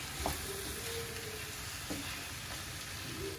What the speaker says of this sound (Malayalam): മസാലയൊക്കെ ഒന്ന് നല്ല രീതിയിൽ ചിക്കനിലോട്ട് പിടിക്കുന്ന രീതിയിൽ നന്നായി നമുക്കൊന്ന് ഇതിനെ ഇളക്കി വെക്കാം